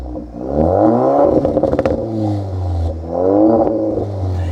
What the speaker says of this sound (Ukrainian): І вихлоп звучить круто. Тут навіть невеликий попкорн є.